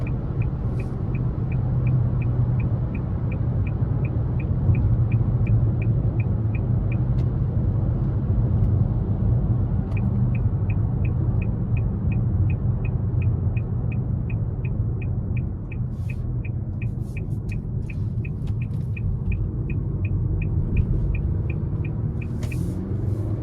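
2023 Nissan Altima SR 2.5 non-turbo cruising on the highway, a steady low road and engine rumble with tyre hum heard from inside the cabin, plus a regular ticking like a turn signal through most of it.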